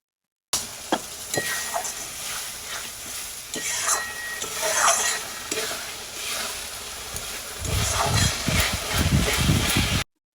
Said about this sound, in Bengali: পেঁয়াজটা লাল হয়ে গেছে, মশলাটা দিয়ে দিলাম।